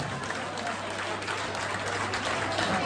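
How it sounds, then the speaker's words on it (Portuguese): Applause from an audience at a village anniversary party in Agualva de Cima, Poceirão, Palmela, welcoming a performer, heard as a steady wash of clapping and crowd noise with a low hum underneath. "Uma grande salva de palmas para o André, mais conhecido pelo Algarve Marrefar."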